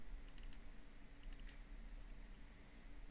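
A computer keyboard clicks through a short, faint burst of keystrokes as a message is typed, with a few scattered taps over steady background hiss.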